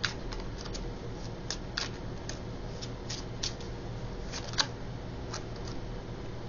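Tarot cards being shuffled and drawn from two piles during a reading, heard as soft, faint papery flicks and riffles at irregular intervals over a quiet background hum.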